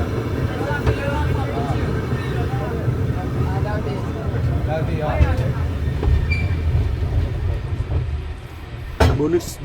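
Powell-Hyde cable car rolling through a San Francisco street, a steady low rumble and clatter of the car with traffic noise throughout, a sharp squeal or clang near the end, people talking over it.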